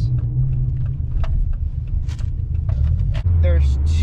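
A car rolls up to a kart racetrack with a steady, close engine rumble filling the whole stretch, rising into a heavier low drone near the end, while a few short knocks and voice-like bits sit on top.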